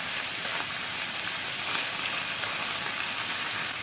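Pork bulgogi sizzling in a crowded fry pan, a steady, loud hiss and crackle of frying meat with no pauses, close up.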